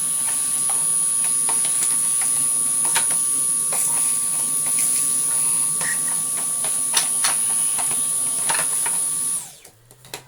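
Hotpoint Light'n'Easy washing machine motor turned by hand, giving a steady whirring hum with a high whine, scattered ticks and clicks, then slowing and stopping near the end.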